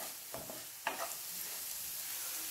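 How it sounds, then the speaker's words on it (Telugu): Green chillies, turmeric and curry leaves frying in a pan, with a soft continuous sizzle and two or three short scrapes of a spoon stirring near the start. "కొంచెం పసుపు, 5-6 సన్నగా తరిగిన పచ్చిమిర్చి, 2 రెమ్మల కరివేపాకు వేసుకొని బాగా ఫ్రై చేసుకుందాము"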